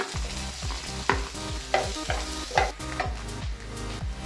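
Chopped onions sizzle and fry with golden garlic in a hot pan, a steady close crackle with a spatula stirring and scraping at a regular rhythm.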